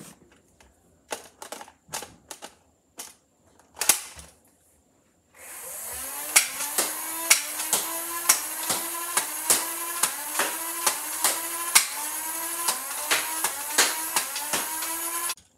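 A Dart Zone Spectrum blaster loaded with waffle head darts: several separate clicks and shots first, then a fast run of rapid mechanical firing over a constant whirring motor hum, close by.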